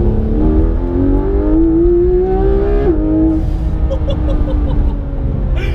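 A loud Porsche 991 GT3 RS engine with stock exhaust revs steadily upward through second gear, climbing in pitch with a brief dip mid-pull, then holding a high, rumbling roar.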